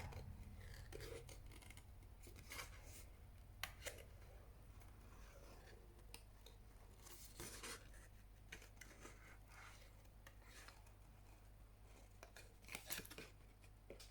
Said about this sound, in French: je prends des ciseaux de précision comme ça. Et je viens tourner mon papier pour découper ici tout au long des falaises.